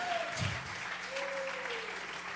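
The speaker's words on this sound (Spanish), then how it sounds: "Vamos a regalarle ofrenda de palmas al Dios de la gloria." Congregation clapping in a church service, a steady wash of applause filling the room for a couple of seconds with no speech over it.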